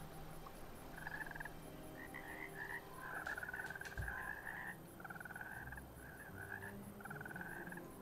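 Frog croaking in the video game ARK Park, repeated rhythmic croak bursts in short trains across the clip, fairly close over a quiet ambient bed, with a brief low thump midway.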